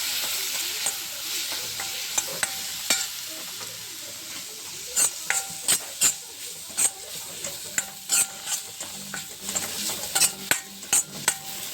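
Ground spices such as cumin, coriander, turmeric and chili powder fry for mushroom gravy in a pan, a steady sizzle broken by repeated sharp clinks and scrapes of a stirring spoon.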